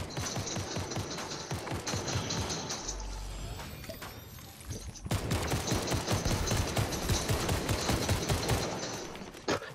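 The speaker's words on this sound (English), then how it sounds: "Is this you using the shotgun from that far?" Gunfire in a Fortnite squads match, attributed to a shotgun, cracks out in rapid, repeated shots, pauses briefly in the middle, then resumes in a dense, sustained volley.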